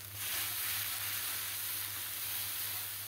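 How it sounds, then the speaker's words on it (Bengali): Ground turmeric and chili powder frying in a pan, a steady close sizzle that holds even and unbroken from start to finish with a faint low hum beneath and no talk. "মশলাটা কষিয়ে নিই"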